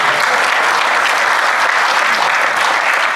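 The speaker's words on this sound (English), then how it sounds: "Round of applause for all that." Audience applause fills a Rotary club meeting, a loud, continuous, even wash of many hands clapping from start to finish, close and without pause.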